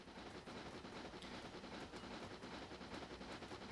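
Talyllyn Railway steam locomotive in Train Simulator Classic slowly climbing a gentle gradient, a faint, steady rumbling and chuffing wash with rail clatter throughout.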